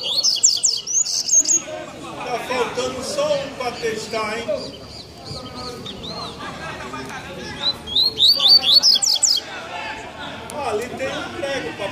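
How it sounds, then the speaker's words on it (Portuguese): A pet double-collared seedeater sings outdoors in bursts of bright, sharp chirps and whistled phrases, while people talk steadily nearby and the bird calls come through between and over the voices. "Aproveitar e trazer o passarinho pra passear."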